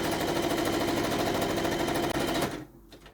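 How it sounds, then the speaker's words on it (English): A sewing machine stitches a handbag side seam in a fast, steady mechanical whir close by, then stops abruptly near the end. "So I'm going to sew down."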